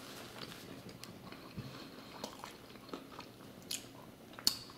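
Quiet, close chewing of a bite of Arby's A.1. Special Reserve steak sandwich, with soft wet mouth sounds and a few faint crunches, alone and without talk.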